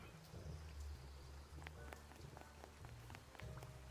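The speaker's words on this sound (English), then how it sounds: "I wondered what kind of sorry soul was standing all alone in the rain" Steady rain falling in the video game Duck Detective, a soft, even patter with scattered drop ticks, faint and continuous, heard alone without speech.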